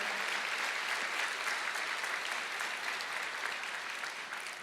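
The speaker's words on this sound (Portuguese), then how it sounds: "Vamos aplaudir ao Senhor." Church congregation applauding during a sermon, even sustained clapping at moderate distance that tapers slightly at the end.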